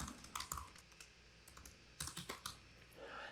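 Computer keyboard typing in a quiet room, a few quick clusters of keystrokes with short pauses between them, close and fairly soft, no voices.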